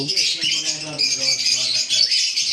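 Small birds chirp and squawk nearby in a busy, overlapping chatter, with a person's voice faintly mixed in underneath.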